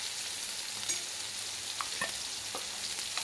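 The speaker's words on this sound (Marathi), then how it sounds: "यामध्ये आपल्याला थोडंसं बटर टाकायचं आहे सगळ्यात पहिल्यांदा." Butter sizzling and frying in a kadhai while preparing Mumbai-style pav bhaji, a steady soft crackle with a few sharper pops, fairly quiet and alone.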